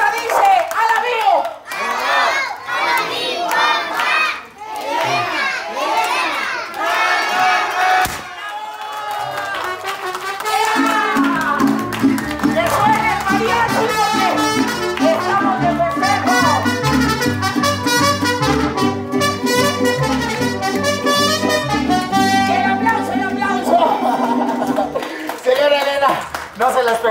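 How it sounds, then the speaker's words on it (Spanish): Applause and cheering at a birthday celebration, a crowd clapping and shouting loudly and continuously, with a host calling out over it and music rising in the background. "¡El aplauso! ¡Apláudale!"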